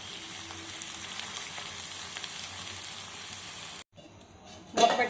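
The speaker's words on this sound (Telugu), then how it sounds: "ఇప్పుడు ముందుగా కట్ చేసి పెట్టుకున్న పెండలం ముక్కలు వేసుకుందాం." Purple yam (pendalam) pieces frying with onions in a pan give a steady, close sizzle that cuts out briefly, then returns with a louder burst as the pieces go in.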